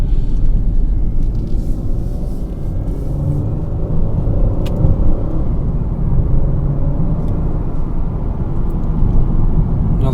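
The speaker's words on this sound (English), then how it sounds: "Big truck with a trailer here" A big truck pulling a trailer rumbles past on the road, a loud, continuous low engine and tyre roar that stays steady throughout.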